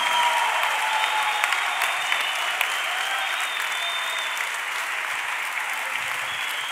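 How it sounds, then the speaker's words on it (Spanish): A church congregation gives a loud, sustained round of applause at the end of a sermon, steady dense clapping filling the whole stretch with no talk over it. "Y nos despedimos con un fuerte aplauso."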